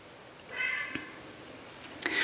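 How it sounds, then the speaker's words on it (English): A house cat gives a short, fairly quiet meow, then a second brief, brighter meow about a second and a half later, close to the microphone in a quiet room. "Sorry, sometimes my cat just has to appear in a video, or at least the sound of a video."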